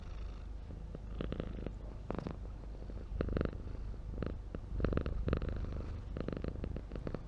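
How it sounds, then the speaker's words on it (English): A cat purrs in a soft, rhythmic rumble of repeated breaths, close and steady over a low background hum, with no voices. "I can play this cat purring sound again."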